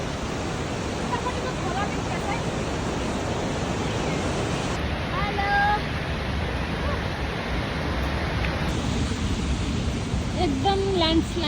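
Langtang river in Nepal rushing beneath a footbridge along a landslide-scarred trekking trail, a loud, steady broadband roar of fast water that fills the whole stretch without pause.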